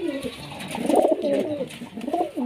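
Desi pigeons coo in low, repeated throaty rolls, close by and continuous over a couple of seconds, with a bit of background murmur.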